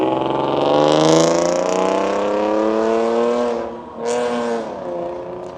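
A V6 car engine revs and pulls away through a U-turn at a street car meet, its rising drone loud and close, briefly dipping before a second surge of revving.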